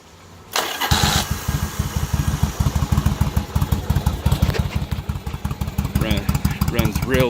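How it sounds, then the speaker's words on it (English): A 1985 Yamaha Virago XV1000 motorcycle engine starts without choke after a clutch replacement, cranking briefly, then catching into a loud, close, lumpy low idle with a steady rapid thumping pulse. "now I'm gonna start it up with no choke."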